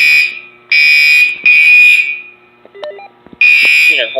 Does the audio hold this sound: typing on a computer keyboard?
no